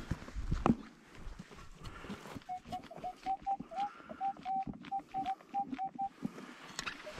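A metal detector emits a repeated warbling electronic tone over a buried target, pulsing steadily for several seconds over faint rustling and ground noise.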